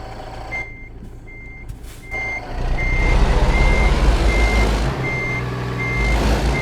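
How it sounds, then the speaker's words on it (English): In American Truck Simulator, a semi truck backs in a short trailer, with a steady series of evenly spaced reversing beeps over a loud diesel engine rumble that swells as the truck moves. "Backing in a short trailer."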